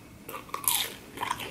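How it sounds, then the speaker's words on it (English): A crunchy bite into cheesy chicken nuggets, close and crisp, with a couple of bursts of crackling crunch followed by chewing, with no talking. "I know y'all hear that crunch."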